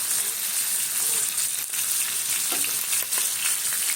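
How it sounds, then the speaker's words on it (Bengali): Puti fish frying in an iron wok produces a loud, dense, hissing sizzle that runs without pause, with faint spatters and stirring rustles mixed in. "লোহার কড়াইতে মাছটা সুন্দরভাবে ভাজাও যায়"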